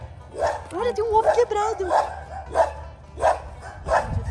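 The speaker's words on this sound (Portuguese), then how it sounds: "os cachorros lá em cima, velho" Dogs barking from somewhere up above along a street, with a sharp bark every half second or so, under and between people talking in Portuguese.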